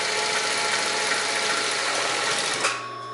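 An Adler or Bernina industrial sewing machine stitching in reverse through blue jeans runs with a fast, steady mechanical whir close by, then slows and quiets near the end.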